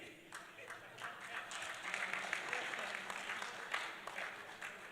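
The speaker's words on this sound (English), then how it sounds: "je crois qu'il nous reste à applaudir" Conference audience applauding after a panel on unconstitutional changes of government: a soft, distant roomful of clapping swells into a steady dense patter, faint overall, with a murmur of voices beneath.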